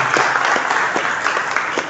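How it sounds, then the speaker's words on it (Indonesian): An audience at an indoor dialogue event bursts into applause, a dense steady patter of many hands clapping close by for a couple of seconds. "Tepuk tangan."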